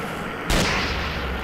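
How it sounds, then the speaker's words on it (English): A single sharp bazooka blast from a video game cracks out loud and close, followed by a short rumbling decay, with no talk over it. "they jump out of the way of bazooka fire"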